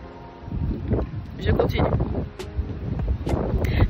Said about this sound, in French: le vent vient gâcher ma coiffure